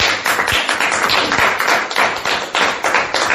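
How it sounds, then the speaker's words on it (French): A church congregation applauding together, a dense sustained wash of clapping with scattered sharper claps, fairly loud and continuous throughout with no talk over it. "Applaudissons encore pour le Seigneur."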